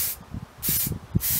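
Aerosol paint sprayed onto a bicycle fork during a restoration, in three close hissing bursts separated by short pauses.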